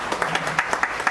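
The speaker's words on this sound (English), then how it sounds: "Let's give Jan a round of applause." An audience applauds briefly, a quick run of distinct claps from a small group.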